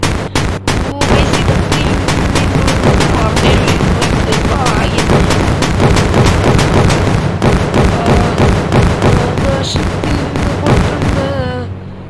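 RPG rocket launcher explosions in the Indian Bike Driving 3D video game form a relentless, loud barrage of rapid booms and blasts for about twelve seconds, ending as the bursts thin out.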